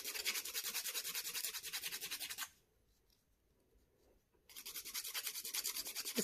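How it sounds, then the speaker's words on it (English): Quick rhythmic rasping strokes of sandpaper on the hard edge of a resin pendant, close up, stopping for about two seconds midway before resuming. "If there's any sharp bits, just sand them real quick."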